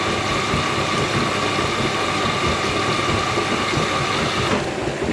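An Indesit WIDL102 washer dryer runs its final spin of a wool cycle, a loud, steady, close mechanical whir and rumble with a sustained tone that drops slightly near the end.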